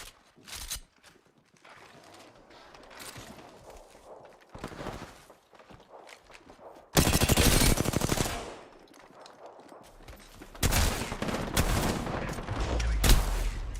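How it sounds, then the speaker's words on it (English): Video game gunfire: scattered shots and footsteps, then two loud sustained bursts of automatic fire, each lasting a few seconds and heard close. "I'm taking fire."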